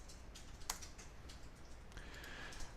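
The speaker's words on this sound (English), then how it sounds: "it's going to save me some time typing" Typing on a computer keyboard, a run of quick, light, irregular key clicks, close and fairly faint, with no voices.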